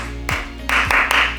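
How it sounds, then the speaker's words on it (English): A primary school teacher claps a rhythmic signal pattern for the children to copy, several sharp, close hand claps in a short sequence over a low background hum. "So I would clap and then the children re-clap the same clap"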